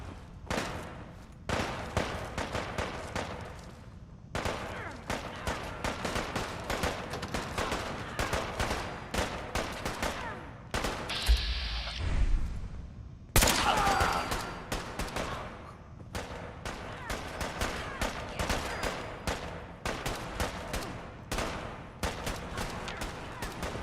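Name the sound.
gunfire in video game Fallout 4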